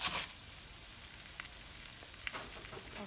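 Rice stirred back and forth in a pan while toasting for Mexican rice, producing a soft, low sizzle with faint scraping stirs at intervals, close and quiet with no voices.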